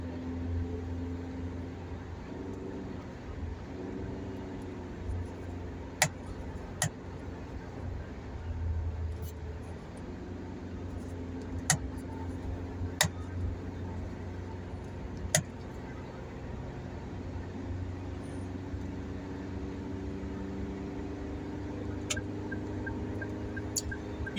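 Fast cars on a busy Jeddah road heard from inside a moving car at around 115 km/h, a steady low road and engine rumble with occasional brief clicks and rattles, passing traffic blending into the drone.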